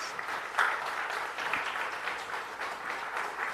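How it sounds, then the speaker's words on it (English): Steady clapping from a conference crowd at the Jamaica Diaspora Conference launch, moderate and somewhat distant, sustained evenly for a few seconds without voices. "I think they deserve a round of applause."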